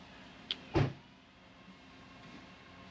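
A parked Lexus close by gives a brief mechanical click followed by a short whirring thump, like a power window or latch, then quiet outdoor background.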